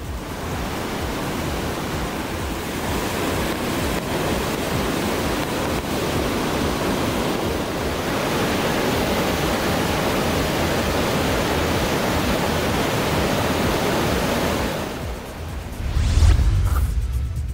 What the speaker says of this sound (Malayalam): തോടുകളും പുഴകളും കരകവിഞ്ഞൊഴുകുന്നു